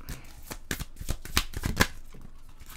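Tarot cards being shuffled close up before a final card is drawn, a run of crisp riffling flicks and slaps over about three seconds with no talking.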